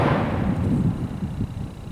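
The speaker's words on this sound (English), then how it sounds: "Explosion there." A distant explosion from the test demolition of a public housing project, a sustained low rumbling roar that fills the clip without sharp peaks.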